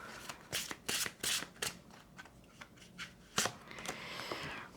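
Tarot cards being shuffled during a French-language reading, a run of crisp riffling and flicking bursts close up, with quieter card slides between them and no talk.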